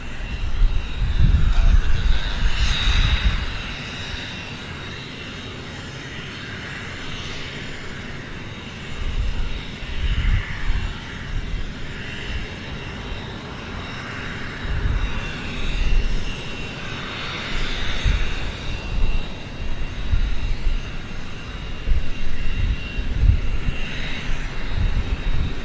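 Boeing 777 jet engines roar at an airport, a steady broadband rumble with a hissing upper band that swells and eases across the span, loud and fairly close, with faint voices now and then.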